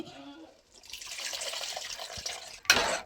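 Water pours steadily into a murrel fish curry with a soft rushing splash, ending in a brief louder gush near the end, close by in a quiet kitchen.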